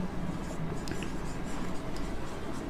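Pen or marker writing a heading on a board during a school biology lesson makes soft, scratchy strokes heard close and fairly faint, with a quiet background hum.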